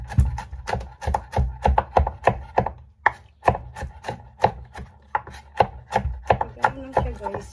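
A knife chops beef tenderloin into small pieces on a cutting board, giving a close, fast run of sharp wooden knocks with a short pause midway, heard alone.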